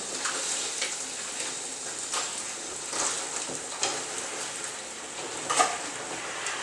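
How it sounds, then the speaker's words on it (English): Meat fries in a pan while being stirred, a steady close sizzle broken by soft scraping strokes and occasional sharper clatters. "He's mixing it all together and keeping the meat from burning at the bottom of the pan."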